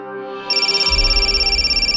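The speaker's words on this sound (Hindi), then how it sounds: "फोन बज रहा है तुम्हारा।" A phone ringtone starts after a soft musical tone, a bright electronic warble repeating rapidly and evenly, loud and close, over a low pulsing beat.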